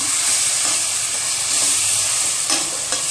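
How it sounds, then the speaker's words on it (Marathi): A coriander spice paste sautés with onion and tomato in a pan, giving a steady, close sizzle and hiss with occasional stirring scrapes and small spits, with no voices. "ती 1-2 ते 3 मिनटं कांदा आणि टॅमॅटो सोबत व्यवस्थित परतून घ्यायची"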